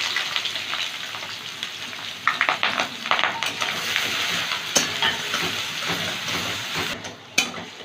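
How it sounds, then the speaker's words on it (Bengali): Chopped onions and whole garam masala sizzle and fry in hot oil for gondhoraj chicken, a steady loud crackle with occasional stirring scrapes and spatters throughout, no voices. "তিনটে মাঝারি সাইজের কুচি করা পেঁয়াজ দিলাম।"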